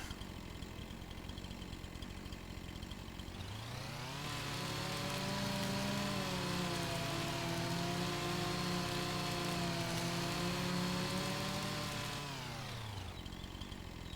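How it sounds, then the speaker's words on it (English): A video-game chainsaw cuts through a tree in Farming Simulator 25, revving up to a loud, steady buzzing drone that holds for about nine seconds before winding back down, with no talk over it. "There was a lot of sawing for one"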